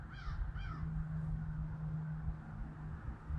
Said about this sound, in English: I can hear them cawing all through the block in the neighborhood.